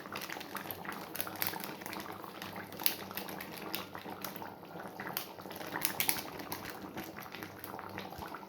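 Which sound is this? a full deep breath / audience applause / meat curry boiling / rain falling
meat curry boiling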